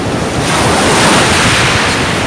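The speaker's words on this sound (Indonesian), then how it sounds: "Ombaknya di sana bagus untuk mandi." Ocean waves at Green Bowl beach in Nusa Dua, southern Bali, a loud, continuous close wash of surf with heavy wind buffeting the microphone.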